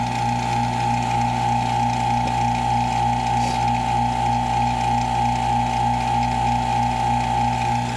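A vacuum chamber pump runs on a soft plastic bait mix, giving a constant loud mechanical hum with a steady tone and a fine rattling texture that continues unchanged throughout.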